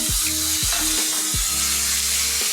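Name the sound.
onion and ginger paste frying with bay leaf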